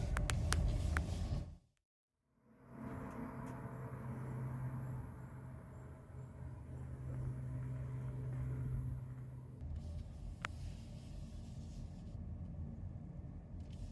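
Co-Wheels shared electric car pulling away and driving off, a steady low rumble and hum of the moving car heard from inside after a brief silent gap, with no talk.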